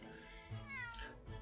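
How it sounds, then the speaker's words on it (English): A cat meows in the Great Ace Attorney Resolve video game, a close, clear, slightly whiny meow stretched over about a second, with no talk over it. "That was a cheeky little meow, Wagahai."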